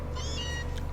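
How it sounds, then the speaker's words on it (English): A single short cat meow from the Pokemon Sun video game, a quick rising-then-falling cry heard over a low, steady background hum. "Meow!"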